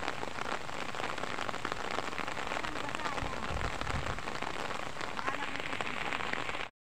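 Steady rain pours down outdoors during a fishing outing in a kangkong patch, a dense, even hiss of drops striking surfaces that holds at the same level throughout before cutting off abruptly.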